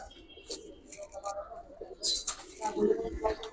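Sapchila pigeons, an old breed, cooing in a loft in a few soft, low murmuring bursts, with chirpy bird calls and handling noises mixed in close by.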